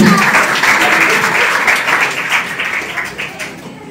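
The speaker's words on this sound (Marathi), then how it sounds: "टाळ्या टाळ्या टाळ्या चालू राहिला" Sustained applause from a crowd at a certificate ceremony in Sakur, Sangamner, India, steady clapping that gradually fades toward the end, with a voice briefly audible underneath.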